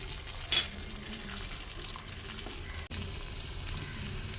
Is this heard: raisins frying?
yes